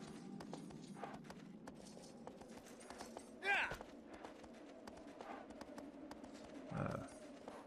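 Horse hooves clip-clopping in Shadow of the Colossus, a steady faint trot of repeated thuds under game ambience, with a couple of louder bumps midway and near the end.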